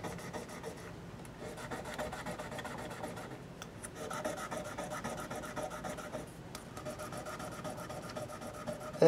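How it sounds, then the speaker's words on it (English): Guitar frets on a PRS copy are lightly sanded with 1000 grit sandpaper over a fretboard guard, a close, quiet rasping rub in continuous back-and-forth strokes with brief pauses. "First step is with my fretboard guard and a little 1000 grit sandpaper. Just going to lightly hit these things."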